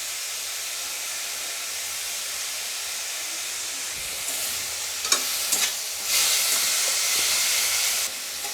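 Banana stem pieces sizzle and hiss in a hot pan with oil, steady frying noise swelling louder with bursts of stirring and sputtering toward the end.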